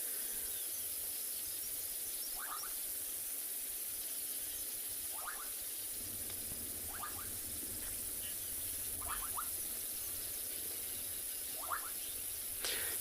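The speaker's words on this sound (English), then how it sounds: "And you can hear those frogs calling constantly." Frogs call repeatedly from a reed-filled pan at sunset, short scratchy clicking bursts recurring every second or two over a steady, faint background hiss of insects and wind.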